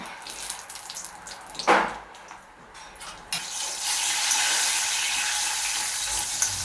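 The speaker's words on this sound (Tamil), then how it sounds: "இப்போ எண்ணெய் சட்டி எடுத்து வச்சுட்டு நல்லா நமக்கு தேவையான அளவுக்கு முந்திரி பருப்பு போடுறாங்க." Cashew nuts frying in an oil pan: a brief splash and rustle, then a loud, steady sizzle that starts suddenly and holds to the end with no talk.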